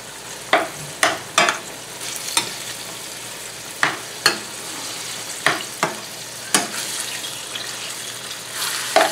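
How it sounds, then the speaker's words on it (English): Ground beef fries in a frying pan under a constant sizzle, punctuated by repeated sharp scrapes and knocks of a utensil stirring it, close and with no talk. "got my ground beef into a frying pan and I'm going to cook this down until it's fully cooked, no longer pink"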